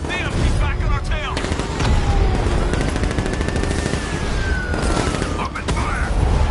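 Sustained gunfire during a vehicle chase in Batman: Arkham Knight, loud continuous rattling bursts with whooshing projectiles and game voices shouting over the shooting.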